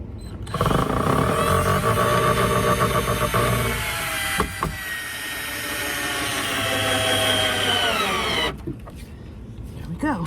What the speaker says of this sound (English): I'm gonna drill straight